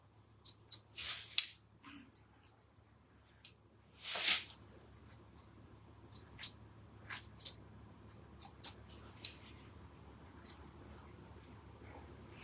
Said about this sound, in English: I'm going to do a freehand cutting technique called slicing, where I'm going to be going open and closing, going down the head